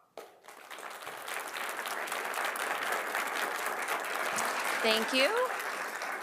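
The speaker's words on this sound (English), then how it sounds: "Not really supposed to clap in chambers" Steady applause from a roomful of people fills city council chambers, with a brief spoken thanks near the start and scattered voices underneath.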